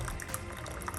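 Hot coffee pours from a Keurig K-Mini coffee maker, a soft, continuous, close liquid stream with faint gurgling and bubbling throughout a brief moment.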